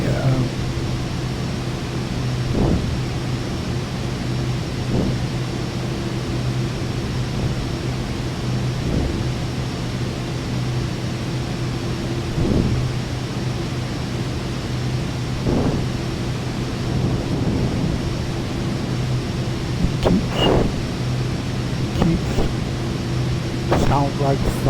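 Thunder inside the video game Microsoft Flight Simulator 2024 near Pasto Antonio Narino Airport in Colombia, rumbling low and distant under a constant loud cockpit hum, with faint cracks toward the end.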